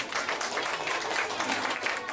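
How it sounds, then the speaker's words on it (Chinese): A crowd at a science magic stunt show applauds in a dense, sustained patter of many hands, fairly loud and steady, with faint voices mixed underneath. "最后你给自己掌声鼓励吧"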